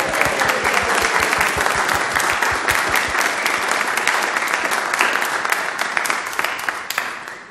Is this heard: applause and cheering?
yes